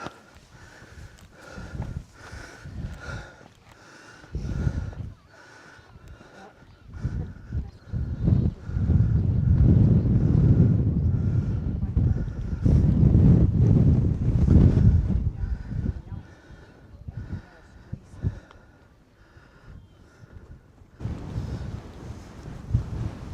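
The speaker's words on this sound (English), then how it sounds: "Still pretty windy up here." Strong wind on a hilltop on the Isle of Skye, Scotland, buffets the microphone in gusts, rising to a loud roar in the middle, then easing back to a lighter rushing.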